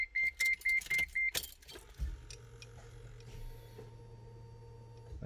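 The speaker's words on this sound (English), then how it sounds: "I hear the pump coming on" An R33 GTR fuel pump switches on, a faint steady low hum that starts midway and keeps droning after a few sharp electronic beeps and clicks inside the car.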